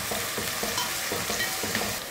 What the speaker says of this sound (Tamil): சிக்கன் தாளிக்கிறதுக்கு நல்லெண்ணெய் ஊற்றிக்கலாம். எண்ணெய் காஞ்சதுமே வெங்காயம் சேர்த்துக்கலாம்.